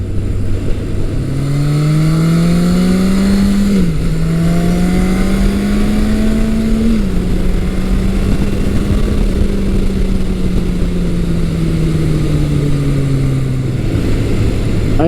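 A 1980s muscle-bike four, either a Yamaha XS1100 or a Kawasaki KZ1000, roars loudly and steadily up close, its pitch climbing through gears with brief dips at shifts, then easing back to idle.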